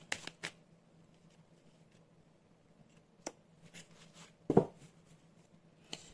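Tarot cards are shuffled and handled close by in a quiet room, with a few soft riffling and tapping bursts separated by near silence.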